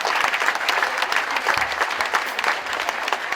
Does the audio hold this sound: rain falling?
no